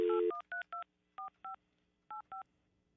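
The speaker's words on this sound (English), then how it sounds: "Let me try Froggy's cell" A cell phone number is dialed on a telephone keypad: a short tone, then seven crisp beeps in quick pairs and singles separated by brief silences, clear and close.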